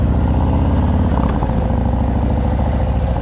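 A 2019 Harley-Davidson FXDR 114 fitted with a Bassani Road Rage exhaust runs loud and close, giving a steady, deep, throbbing idle with a dense low-end rumble and no voices over it.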